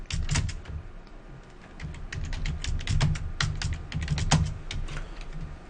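A computer keyboard typed on in quick, irregular bursts of clicking keystrokes, close and fairly quiet, with short pauses between runs of keys.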